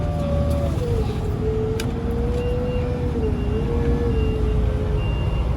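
A Merlo 27.6 telehandler of 75 horsepower, fitted with a bucket and pushing green waste, sounds a steady reversing beep over a continuous engine drone, close and fairly loud, with no pause for its whole length.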